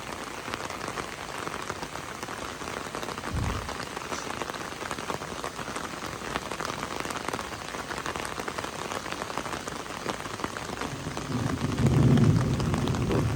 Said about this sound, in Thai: เพราะว่าฝนตกพี่น้องนี่แหละคือตามที่เห็นเนาะ